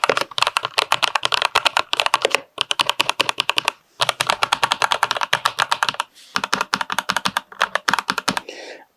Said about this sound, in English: The keyboards have more of a thock feeling, and it does have a nice thock sound